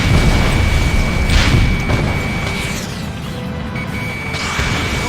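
A vehicle blows up in the Ace Combat Assault Horizon video game, a loud low rumbling boom sustained throughout, with a sharper crack near the start and layered game effects over the roar.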